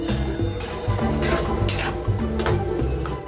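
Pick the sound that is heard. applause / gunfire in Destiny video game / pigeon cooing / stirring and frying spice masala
stirring and frying spice masala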